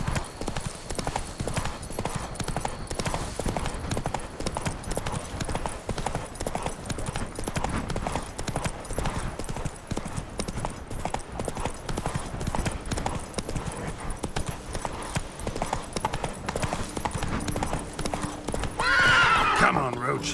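Roach, the horse in The Witcher 3: Blood and Wine, gallops with fast continuous clip-clopping hooves, a whinny rising near the end, over steady game ambience and voices.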